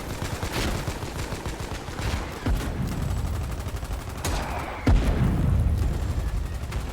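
Artillery and gunfire in the video game Foxhole during a defensive battle at Barronhome, with dense rattling volleys, repeated heavy booms and sharp blasts, loud and continuous throughout.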